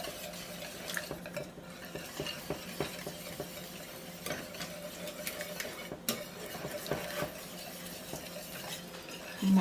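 Grated mild cheese whisked into a tuna casserole gives a soft, steady stirring and scraping of a utensil against the pot, with light clinks, quiet and close with no talking.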